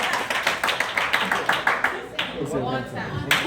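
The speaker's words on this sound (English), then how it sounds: "somebody clap your hand one time." A church congregation claps, a quick run of scattered, uneven hand claps from many people that thins out partway through, with a voice talking over the later part.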